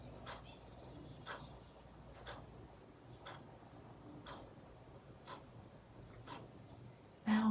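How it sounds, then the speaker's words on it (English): Birds chirp faintly outside an open door, short calls repeating about once a second against a quiet room background. "If I shut up and be really quiet, can you hear the birds?"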